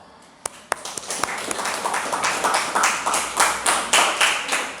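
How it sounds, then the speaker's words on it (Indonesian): A classroom of students applauds, the claps starting sparse and building into steady, fairly loud group clapping, with no talk over it. "Saya minta untuk memberi aplaus atas keberanian dan jawaban yang telah diberikan oleh Kanza."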